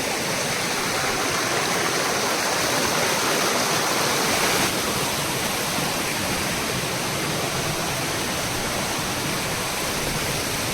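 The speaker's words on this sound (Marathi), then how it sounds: "वरती धबधबा आहे" A waterfall near Kudpan village in Konkan roars in a loud, constant rush of falling water, steady and close for the whole stretch, with no voices.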